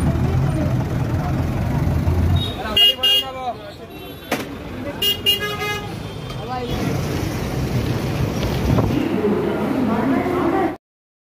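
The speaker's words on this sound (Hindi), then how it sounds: "देखिए दोस्तों अभी सिग्नल पर खड़ा है गाड़ी" Traffic around a vehicle waiting at a signal on an Indian road, with an idling engine rumble underneath and several short, loud car horn toots sounding a few seconds apart before the sound cuts off abruptly.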